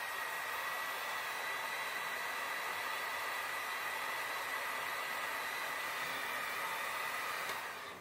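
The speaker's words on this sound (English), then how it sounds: "I'm going to apply a little heat to this." A heat gun or hair dryer blows a steady, even airy roar up close while warming heavy-duty double-sided tape, running continuously before cutting off at the end.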